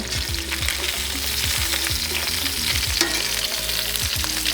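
Chicken thighs sizzle loudly in a hot pan as the skin crisps, a dense steady frying hiss with a low rumbling hum beneath it throughout.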